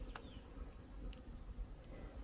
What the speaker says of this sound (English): You can hear all the bees.